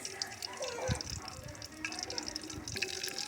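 Mustard seeds pop and crackle in hot oil, irregular and close, under a steady watery hiss with some kitchen clatter.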